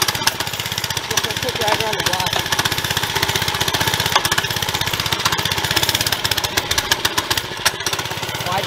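A Baja 97cc small engine runs steadily after being started, a loud continuous buzzing chug with rapid firing pulses throughout, with voices talking over it.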